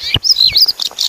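Ground dove (punai tanah) calls in a late-afternoon outdoor setting: a quick string of bright, chirping notes, close and clear, in short bursts with no voices over them.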